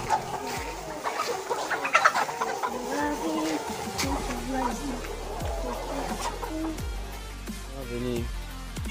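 Laying hens cluck repeatedly in a poultry barn, a dense chorus of overlapping clucks and squawks, some near and loud, others farther off.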